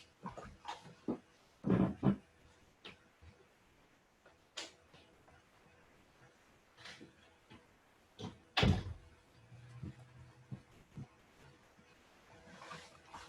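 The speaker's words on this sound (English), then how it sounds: "My dog wants out." A dog indoors wanting to be let outside, giving scattered short barks or whines alongside door and cupboard-like knocks, with a few louder bursts among quieter gaps.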